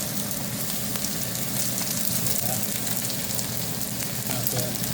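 Onions frying in a pan for mushroom adobo with sotanghon, a steady close sizzle with faint stirring scrapes throughout.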